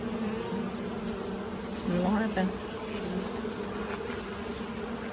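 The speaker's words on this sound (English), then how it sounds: "Okay, lots of bees" Honeybees buzzing inside a nuc hive during an inspection, a steady close-up drone with a louder swell midway, while a person speaks briefly over it.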